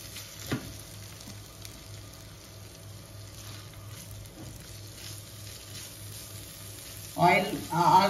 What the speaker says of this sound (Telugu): ఇప్పుడు క్లీన్ చేసుకున్న ఫిష్ని వేస్తాను ఫస్ట్.